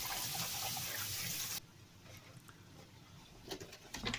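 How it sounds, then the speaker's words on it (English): Water runs over canned beans in a kitchen strainer, a steady bright splashing rush that cuts off abruptly partway, followed by quiet drips and light patter. "Just throw them in a strainer, throw some water over them."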